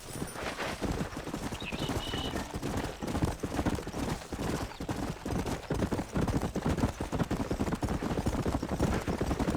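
Horses' hooves clip-clop steadily and fast under a mounted chase in the video game Red Dead Redemption, with a dense continuous patter of riding and no clear speech.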